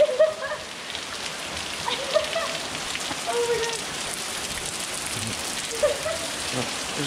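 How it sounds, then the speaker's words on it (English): Steady rain patters down along the Watkins Glen State Park gorge trail, a dense even hiss of drops on the surroundings, with faint voices briefly heard beneath it. "Gonna get rained on."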